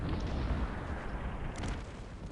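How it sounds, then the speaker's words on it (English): Artillery fire in the strategy game Cossacks 3, a dense low rumble of repeated booms blending into a continuous battle roar, with no talk. "Some shots from Stalman into this artillery."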